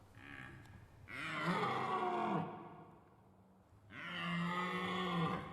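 A deep, drawn-out roar from a red deer stag during the rut in a Carpathian forest, two long bellowing calls separated by a short pause, fairly close and clear.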